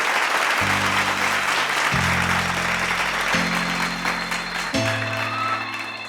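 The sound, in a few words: audience applause welcoming the finalists on stage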